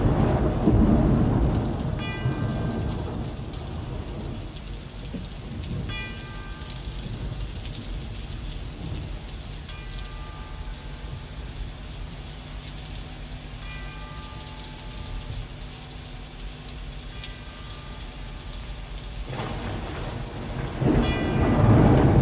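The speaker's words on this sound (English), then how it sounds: "first it starts out with the thunderstorms and the chimes" Steady heavy rain pours with rolling thunder at the opening of a song, while distant bell chimes ring out every few seconds over the downpour.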